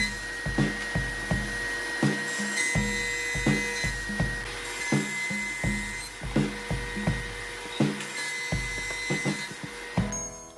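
A thickness planer flattens the opposite face of wood boards for edge-grain cutting boards, its motor whining steadily while repeated short, loud cutting bursts come at a regular rhythm as each board is fed through, with no talking.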